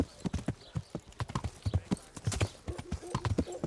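Horse hooves clip-clopping in uneven bursts in the medieval game Kingdom Come: Deliverance, fairly close and moderately quiet, with a brief whinny, and no one talking.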